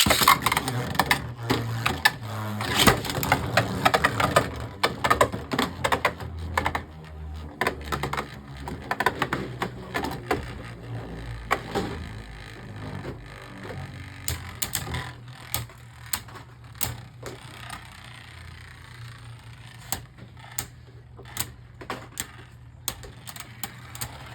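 Beyblade Burst spinning tops, including a stamina type, clatter and clack against each other in a plastic stadium, with rapid irregular hits and scraping over a steady whirring spin, with speech occasionally heard.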